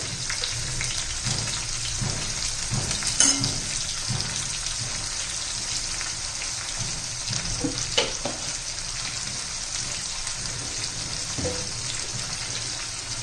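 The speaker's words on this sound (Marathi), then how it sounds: "चांगला कांदा आता मऊ पडेपर्यंत आपण परतून घेणार आहोत" Onion and tomato sauté in a pan for a potato and pea vegetable dish, a continuous close sizzle with occasional soft stirring scrapes and small pops throughout.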